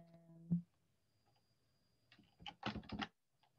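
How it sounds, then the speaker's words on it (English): Computer keyboard typing while working in R, heard as a faint, sparse run of clicks and taps, with a short cluster of quick keystrokes near the end after a single earlier tap. "I'm getting bored of typing this already."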